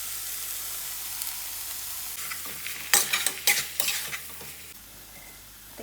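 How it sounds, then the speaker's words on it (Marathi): Boiled moong dal being stir-fried in a pan with coriander powder, cumin powder, chaat masala and a little sugar. A quiet hiss runs under a burst of scraping stirs in the middle. "आता आपल्याला ही डाळ कोरडी होईपर्यंत चांगली परतून घ्यायची आहे"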